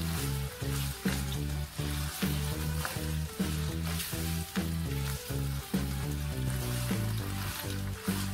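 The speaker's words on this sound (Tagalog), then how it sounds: "na-pan-fry ko na yung tofu" Tofu pan-frying in a pan for a stir-fry with cabbage, a steady loud sizzle and crackle running throughout with rhythmic scraping pulses as it is moved about, no voices.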